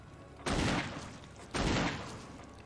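Two loud booming hand cannon shots fire about a second apart in Resident Evil 1 Remake, each with a long decaying tail, no talk.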